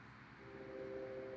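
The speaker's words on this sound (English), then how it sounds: "we'll use a train hurtling towards 4 men who are stuck on the track" A train sound effect with a rumbling roll along the track and a sustained horn tone rising over it, steady and moderately loud with no voices.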